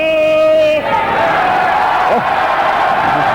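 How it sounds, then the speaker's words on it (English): A boxing crowd roars in support of Larry Holmes at his 1983 fight against Lucien Rodriguez, a dense, sustained wall of cheering and shouting that stays loud throughout. "Larry has his own cheering section"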